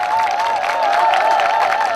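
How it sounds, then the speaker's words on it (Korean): A crowd claps at an outdoor anti-nuclear protest rally, a loud, steady patter of applause with a sustained wavering electronic tone, like amplified feedback, running through it. "많은 박수 부탁드리겠습니다"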